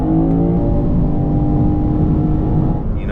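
A 2023 Lexus RC 350 F Sport accelerates hard from 40 mph in a rolling pull, its engine note rising steadily in a loud, smooth whir heard from inside the car with no speech.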